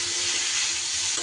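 Pumpkin, potato and pointed gourd fry in fish oil in a pan, giving a dense, even sizzle that carries close and steady without pause or voices.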